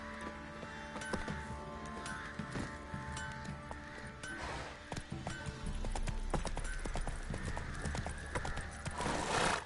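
Hooves of Roach, a horse in The Witcher 3, clip-clop in a steady trotting rhythm, close and clear, with an occasional whinny and no talking over them.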